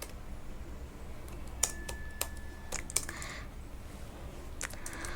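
Keys clatter on a computer keyboard as code is entered, a close, quiet stream of uneven clicks with a few sharper taps, steady over soft background hiss and no voices.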